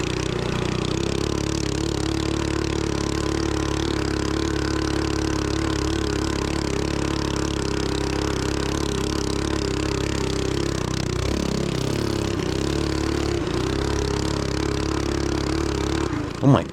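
A B200R minibike fitted with a 12 HP 224 engine drones steadily as it climbs a steep hill. The loud engine holds a sustained pitch with rattling and scraping near the end.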